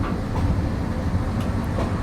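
The Mohanagar Express pulls out of Kamalapur railway station in Dhaka on a rainy night, a heavy, close, continuous rumble of rolling wagons with faint clacking.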